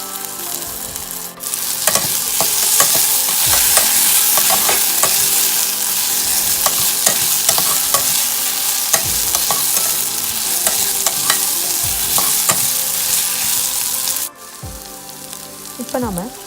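Onions fry and sizzle in a pan with ginger garlic paste for chicken thokku, a steady loud hiss broken by repeated scraping stirs, then a brief pause near the end.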